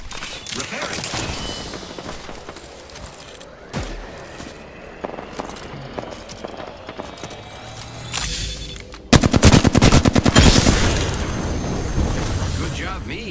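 Gunfire in the Apex Legends video game, rapid bursts of automatic shots and single cracks, building into a dense, loud sustained volley near the end, with a voice speaking at times.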